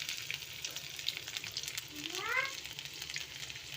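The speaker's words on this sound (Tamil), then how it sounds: "கேபேஜ், கேரட் எல்லாம் போட்டு நல்லா ஒரு நிமிஷம் நல்லா வணக்கி விடுங்க" Cabbage, carrot and capsicum sautéing in a pan for veg manchurian, a steady soft sizzle throughout with a brief rising whistle-like tone midway, no talking.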